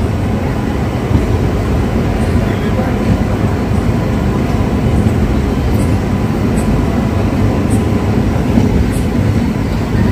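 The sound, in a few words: Haripriya Express train departing Erragonda station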